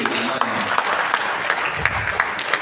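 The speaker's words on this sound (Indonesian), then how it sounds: "Tepuk tangan buat mereka yang hadir di sini." An audience at a Betawi community year-end gathering claps steadily, a dense ongoing patter of applause heard at moderate distance, with some talking mixed in.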